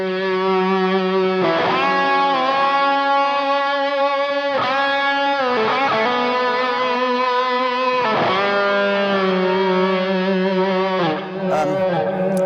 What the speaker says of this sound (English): I'm using the Keeley fuzz with this, with actually a bit of distortion from the Nova Drive.